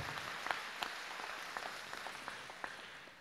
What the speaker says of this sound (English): So that's a round of applause to everyone